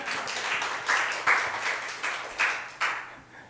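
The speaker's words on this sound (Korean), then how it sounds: "우리 방송실을 위해서 박수 한번 합시다" A church congregation claps for the broadcast team during an afternoon worship service, a moderate, fairly quiet patter with a few louder swells that fades toward the end.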